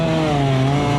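A lightweight chainsaw engine powering a homemade longtail boat runs at a steady, high-revving drone, loud and close throughout with no talking.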